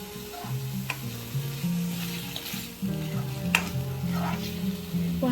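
Chopped tomatoes sautéed with ginger-garlic paste in a hot pan, a steady low sizzle with occasional stirring scrapes, running under prominent background music with no talking.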